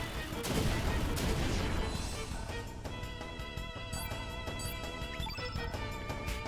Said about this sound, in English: Magma bomb.